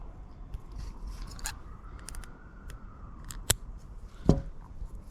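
Scissors snip fishing line after a knot is tied on a fishing rig, with a few quiet clicks and then a sharp close cut near the end.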